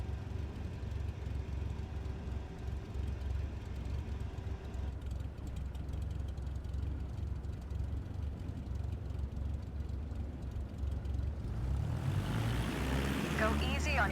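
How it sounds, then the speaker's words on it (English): In Microsoft Flight Simulator, an aircraft's engine hums low and steady at idle while taxiing. Near the end the throttle comes up and the engine note swells into a louder, rising roar. "gently increase throttle to get the aircraft moving"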